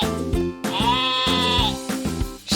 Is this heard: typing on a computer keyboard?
no